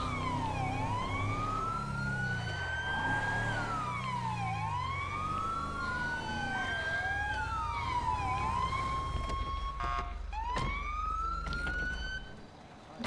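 Police car siren in a GTA roleplay game wails in a steady rising and falling sweep, then switches briefly to a faster yelp near the end, moderately loud over low engine rumble.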